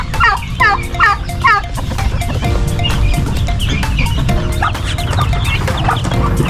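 A mixed flock of hens and chicks clucking and peeping together, dense overlapping calls near and loud throughout, with brief louder cluck bursts at the start.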